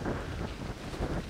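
Strong gusting wind buffeting the microphone outdoors in the Camargue wetlands, a loud rough roar rising and falling in gusts throughout, with no voices.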